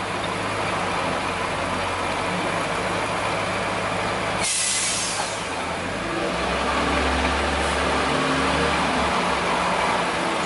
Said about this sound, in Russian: Поехала машина.